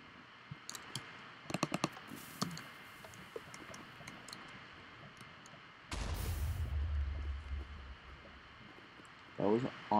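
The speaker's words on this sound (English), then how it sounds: "That was honestly a pretty big explosion." A big explosion in modded Minecraft bursts in midway as a loud low rumbling blast lasting a couple of seconds, following scattered clicks and small pops, with a player talking.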